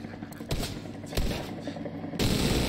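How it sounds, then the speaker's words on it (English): Heavy automatic fire from a mounted machine gun in The Division 2, a dense, continuous burst of loud, close shots that swells louder near the end. "Let's get on that machine gun."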